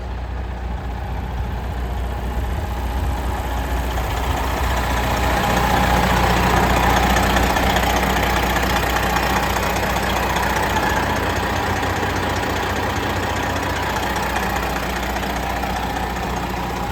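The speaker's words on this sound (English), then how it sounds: "factory crate reman engine from Detroit. I've gotten it fired up and hot this morning." A hot remanufactured Detroit diesel engine in a 2016 Peterbilt glider truck idles alone, a loud, even, low-pitched rumble with a fine ticking texture, holding steady with a slight swell midway.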